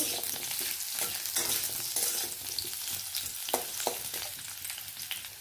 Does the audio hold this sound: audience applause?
no